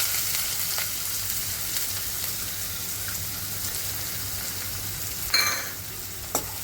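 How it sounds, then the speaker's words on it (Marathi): Cumin, mustard seeds and finely chopped onion fry in hot oil in a steady, even sizzle, with a couple of sharp spits and pops near the end and no talking. "आता त्यात जिरं टाकू, मोहरी, बारीक चिरलेला कांदा,"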